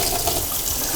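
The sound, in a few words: water being poured into a cooking dish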